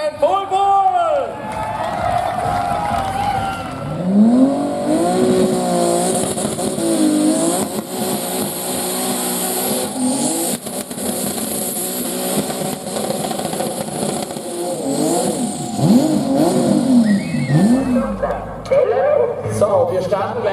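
Tractor pulling competition engine revving at an outdoor event in Trautenfels, Austria, a loud sustained roar with rising and falling pitch sweeps as the machine hauls the brake sled, with a crowd and an announcer's voice over it.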